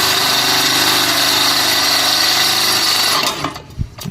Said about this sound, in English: We're gonna drill the new holes